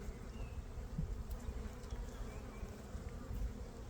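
Honey bees hum in a dense, steady low drone around a pollen-filled hive frame, heard up close and unbroken, with no voices.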